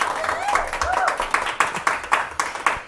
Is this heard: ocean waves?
no